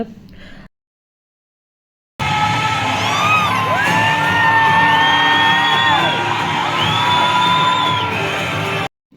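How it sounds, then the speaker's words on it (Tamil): A packed cinema theatre crowd waiting to see the actor Vijay erupts in loud, sustained cheering, whooping and yelling that lasts several seconds after a brief gap of near silence. "அவ்வளோ சத்தம் தியேட்டரில்"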